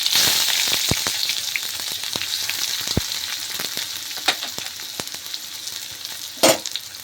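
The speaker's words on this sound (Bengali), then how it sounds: "এরপর দেব পেঁয়াজ কুচি" Chopped onion added to hot oil tempered with a bay leaf, giving a bright, steady sizzle with scattered clicks and a sharp clatter of a utensil against the pan, close up with no speech.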